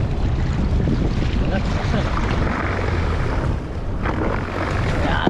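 Sea waves wash around a small boat out crab fishing, mixed with strong wind buffeting the microphone in a constant roar, with voices talking faintly underneath.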